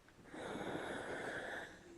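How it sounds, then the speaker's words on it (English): A dog snoring nearby, one long raspy breath that swells, holds for over a second and then fades, with no talking over it. "That's my dog snoring, by the way."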